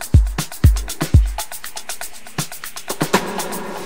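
An Afro House drum loop in FL Studio opens with three heavy kicks and ticking hats, then the kicks drop out as a rising noise sweep builds over busier percussion hits toward the end.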